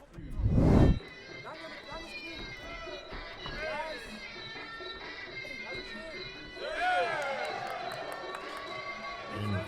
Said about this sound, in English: A few boos and whistles from the crowd